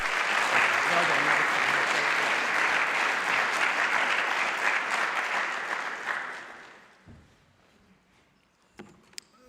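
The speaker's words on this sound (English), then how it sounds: "So a final round of applause." An audience at a festival gives a final round of applause: loud, dense clapping that holds steady for about six seconds, then fades out to near silence, with a few scattered claps at the end.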